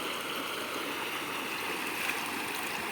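Running stream water in a village flows steadily and close, a continuous rushing wash with no speech.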